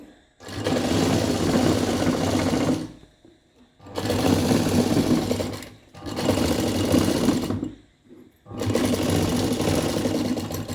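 Sewing machine stitching thread piping onto fabric, four steady motor-driven runs of rapid needle whirring, each a few seconds long with short pauses between, loud and close, with no voices.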